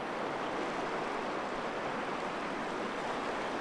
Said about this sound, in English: These rapids are normally shallow and forgiving at low to medium water levels, such as you see here.